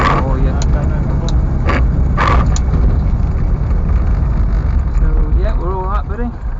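A 1966 MK1 Mini 850 engine drones steadily at close range while driving, its rough low hum continuous under road noise, with a few brief bursts and a voice audible near the end.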